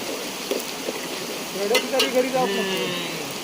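Ginger garlic paste sizzling and being stirred in a pan for a Chinese-style chicken dish, a steady soft fry hiss with scraping stir noises swelling midway, close and moderately loud.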